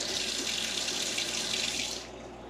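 Tap water runs steadily into a sink while turnips are washed, a close, loud hiss that drops off as the flow stops near the end.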